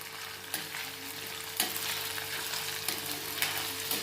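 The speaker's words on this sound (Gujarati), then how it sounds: "ઘી ગરમ થઈ ગયું છે એટલે તેની અંદર આપણે છીણેલી જે હળદર હતી તે આપણે નાખી દઈશું અને તેને ધીમા તાપે સાતરીશું" Grated green turmeric fries in hot ghee over a low flame in a steel bowl, giving a continuous close sizzle broken by a few sharp scrapes of stirring.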